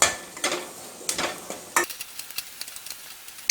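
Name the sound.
sautéing onions for green peas curry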